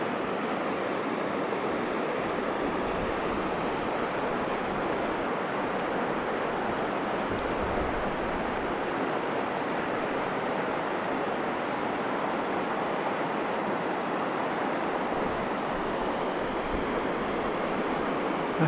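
Ocean waves break on the shore in a continuous, steady roar of surf, with broadband rushing noise and some wind buffeting the microphone, and no voices.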